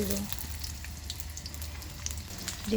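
Onion frying in oil in a wok makes a low, close, crackling sizzle with scattered small pops that continues steadily for a few seconds.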